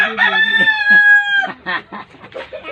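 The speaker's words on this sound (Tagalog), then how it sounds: "Dami manok dyan oh" A rooster crows close by, a long strained call, followed by several short clucks from chickens.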